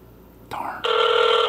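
A telephone rings loudly and steadily after a brief click, a bright electronic bell tone close by with no talking.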